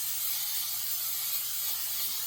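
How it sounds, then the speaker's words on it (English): Cooking oil sprayed from a can onto a pot on the stove, one steady, close, hissing burst held for about two seconds without talk. "I'm gonna spray my pot."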